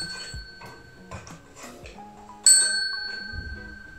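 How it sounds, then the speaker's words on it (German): Notification bell sound effect: a bright metallic ding rings out clearly over soft background music, then decays with a ringing tail. "macht es wie Avo und drückt auf die Glocke"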